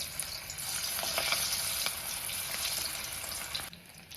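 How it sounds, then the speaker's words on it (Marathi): Hot oil crackles and sizzles steadily as cauliflower pieces deep fry in a wok nearby, the bubbling continuous before easing off at the end. "आपण तळण्यासाठी टाकून घेऊया"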